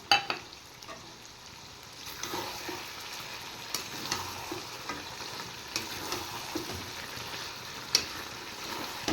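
A paste of poppy seeds, sesame, melon seeds and peanuts fries in a pan for chicken, giving a soft steady sizzle broken by intermittent spoon scrapes and taps, faint and close.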